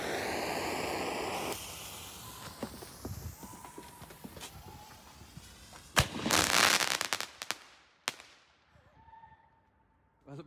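A Broekhoff Thunderking Crackling mine firework goes off outdoors with a sharp launch bang, then a dense burst of crackling pops that fades into scattered snaps and quiet.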